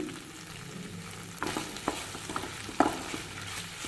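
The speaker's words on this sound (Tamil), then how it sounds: "புளி சேர்த்து ஒரு நிமிஷம் வதங்கட்டுங்க" Tamarind is stirred and sautéed in a pan while ivy gourd chutney is being made, with a steady sizzle and several sharper scrapes and clinks of the spoon against the pan. No one speaks.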